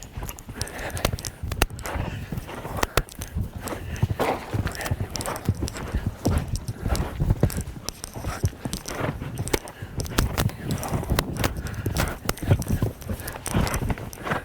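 Horse hooves clip-clop in a quick, uneven rhythm of sharp thuds, close and continuous, as a horse works during a riding clinic.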